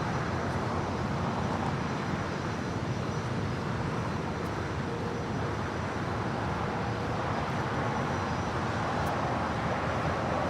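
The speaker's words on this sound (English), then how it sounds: "And the A380 Super now rolling down 25 left" An Airbus A380 rolls down runway 25 left at LAX, heard as a broad, steady, distant jet roar that holds evenly throughout with no talking.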